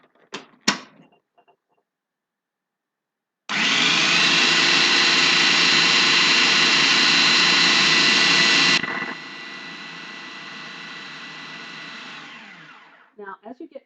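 Food processor cutting butter into pie dough for apple pie: after a couple of brief knocks, the motor roars loudly and steadily for about five seconds, drops to a lower whir as the chunks break up, then stops with a few short pulses, close and alone.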